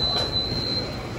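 Ahmedabad metro train wheels squealing on the rails, a brief high thin whine over a rumbling low roar of the moving train, continuous and close.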